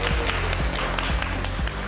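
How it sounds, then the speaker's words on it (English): An audience applauding as a boy named Lewis is called up on stage, dense and loud clapping throughout, close and steady, with faint voices mixed in. "Everyone give him a round of applause."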